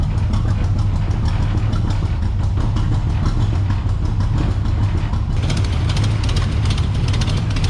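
A rat rod engine idles steadily with an exhaust leak, a loud continuous low rumble with a faint ticking edge that holds throughout, no talk over it.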